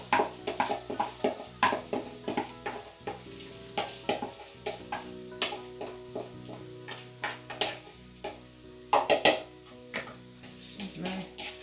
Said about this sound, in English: Now I'm going to add the rice to this.